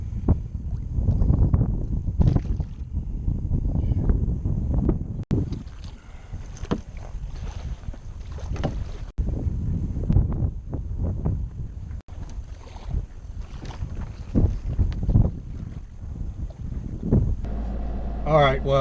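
Wind gusting over a fishing kayak on open water during a bass fishing outing, a continuous rough buffeting roar with louder surges and occasional knocks, and a voice briefly present.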